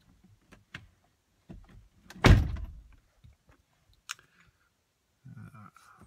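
A car door pulled shut from inside, one solid thunk near the middle, surrounded by a few smaller clicks and handling noises at close range.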